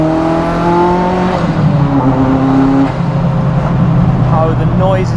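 A Ferrari F40 engine revs hard in second gear on tarmac, a loud sustained drone rising and falling in pitch with crackling pops from the exhaust, heard from inside the car while a person talks over it.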